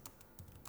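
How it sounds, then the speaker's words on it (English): Keys tapped on a computer keyboard, three or four quick, light clicks spaced irregularly, close and fairly quiet with nothing else around them. "So let's type some questions."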